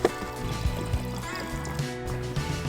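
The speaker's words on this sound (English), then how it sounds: "we have to bring gas with us and we've just stopped to fill up" Gasoline pours steadily from a carried fuel container into a Honda Africa Twin motorcycle's tank, stopped beside a river on the Trans-Labrador Highway; a continuous close liquid gurgle and fill with a few soft knocks.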